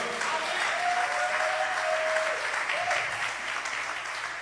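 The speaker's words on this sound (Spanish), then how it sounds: "Dale un aplauso fuerte a nuestro Dios." Sustained, dense applause from a large church congregation, steady and loud throughout, with a faint voice briefly audible beneath it.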